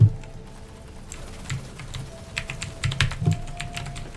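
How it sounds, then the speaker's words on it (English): Clicky computer keyboard being typed on in quick irregular bursts, close and fairly loud over a faint steady hum, with no talking. "Just my keyboard's really clicky."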